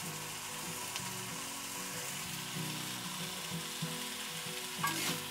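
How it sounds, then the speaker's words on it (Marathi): Thinly sliced onions for Maharashtrian kandyachi bhaji sauté in a pan over a low gas flame, making a steady soft sizzle with occasional stirring scrapes and a brief louder clink near the end, with faint music behind. "तर आपण 1-2 मिनिटं ना स्लो गॅसवर याला असंच परतून घेऊया"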